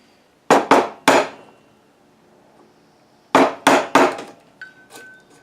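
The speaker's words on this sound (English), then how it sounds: "I'm using a 3/8 inch chisel to just start" A 3/8 inch chisel struck hard on a workbench, clearing waste from a dovetail socket: two sharp clusters of three close, loud mallet blows, separated by a pause, with a faint scrape at the end.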